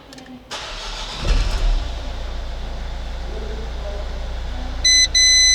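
A Renault Trafic van's engine cranks and starts after alternator repairs, catching quickly and settling into a steady, loud, close idle with a few electronic beeps near the end.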